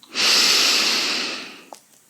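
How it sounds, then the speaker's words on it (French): A long, loud inhale through the nose during a sophrology relaxation session, rising quickly and holding steady before tapering off, followed by a brief soft click and a quiet pause. "J'inspire."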